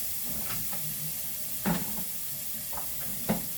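Onions frying quietly in a pan for a breakfast burrito, a soft steady sizzle with a few light clicks and spatula taps, close but low in level, no talk.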